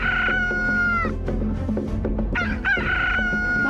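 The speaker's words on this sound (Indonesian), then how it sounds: "sebelum ayam berkokok." A rooster crows loudly and close, one long drawn-out call that breaks off, followed by clucking and a second rising crow.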